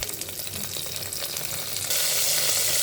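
Curry leaves hit hot oil with cumin seeds in a pan for dal pongal tempering, a dense steady crackling sizzle that suddenly flares louder and brighter partway through, close up and uninterrupted.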